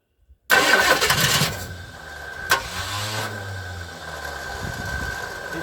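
A 1958 Edsel engine cranks loudly with the starter whirring, then coughs and chugs unevenly without catching, heard up close and alone.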